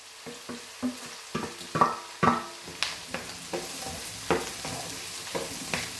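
Onions and capsicum stir-fried for chilli chicken: a spatula scrapes and knocks against the pan in a steady series of close, crisp strokes over a soft continuous sizzle, with nobody speaking.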